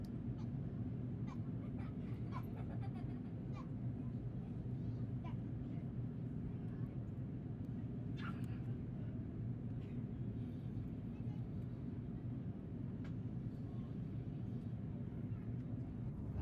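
Airliner cabin hum during the final approach to LAX in Los Angeles, a steady, loud low-frequency engine and airflow drone that continues unbroken, with faint rattles and clicks on top.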